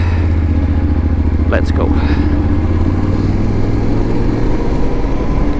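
Motorcycle riding in third gear on the TET Sweden trail, its engine giving a steady, close drone throughout while a voice briefly speaks over it.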